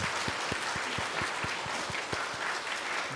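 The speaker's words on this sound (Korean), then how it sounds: "우리 박수로 환영하겠습니다." Congregation applauding to welcome guests at a church Sunday service marking a 44th founding anniversary, a dense steady patter of many hands clapping throughout at moderate level, with no one speaking over it.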